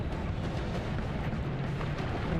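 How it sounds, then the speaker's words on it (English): Explosions strike the player in the video game Noita as a continuous, loud, crackling roar of blasts with no clear gaps between them, dense and heavy throughout. "Oh no, he hit me with explosions."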